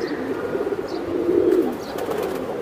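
Pigeons at a farm selling breeds such as Giribaz, Damascene and Pakistani teddy: a soft, continuous low cooing, fairly close, with faint chirps overhead and no talk.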